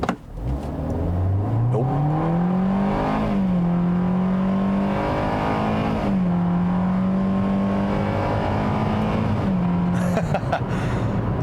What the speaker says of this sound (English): But let's try just a standstill acceleration here.